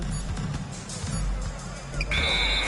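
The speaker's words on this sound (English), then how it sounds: "they turn over the 24-second buzzer, signaling the shot clock violation" At an NBA game between Oklahoma City and Sacramento, the 24-second shot clock buzzer sounds for a violation. A loud sustained electronic tone cuts in near the end over the steady murmur of the arena crowd.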